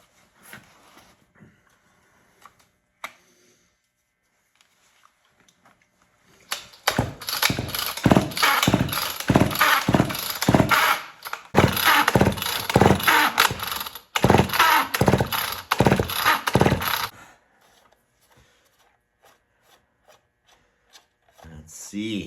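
A small engine is pull-started with the choke on: a long run of rhythmic rasping pulls, loud and close, comes in repeated bursts after a quiet stretch with faint handling noises, and the engine never settles into a steady run.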